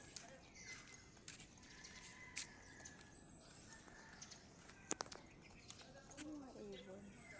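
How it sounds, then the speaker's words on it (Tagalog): Birds chirp outdoors with faint, scattered tweets over steady background noise while a person walks alone at a fiesta site, and there is a little distant voice activity. "Ibon."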